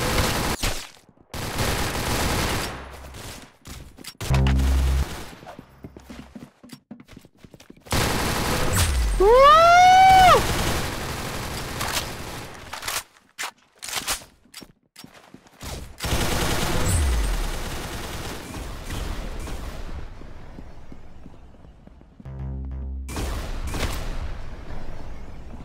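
Mobile shooter game gunfire in repeated bursts of rapid automatic shots across the stretch, loud and close, separated by short gaps, with a whistling sweeping effect partway through.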